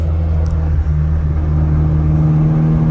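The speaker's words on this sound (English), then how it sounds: "you can hear how fucked the transmission is" Worn transmission and exhaust drone from a Honda Civic EF hatchback with a budget exhaust, a steady loud low rumble and whir that holds constant throughout without talk.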